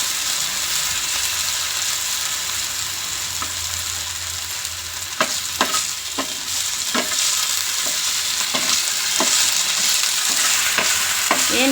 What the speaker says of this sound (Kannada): ಸಣ್ಣಗೆ ಹೆಚ್ಕೊಂಡಿದ್ರೆ ಆಲೂಗಡ್ಡೆ ಎಣ್ಣೆಯಲ್ಲಿ ಬೇಗ ಫ್ರೈ ಆಗಿಬಿಡುತ್ತೆ.